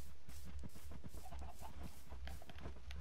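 Minecraft chickens cluck in a steady, busy chatter over a constant low hum, several birds overlapping throughout.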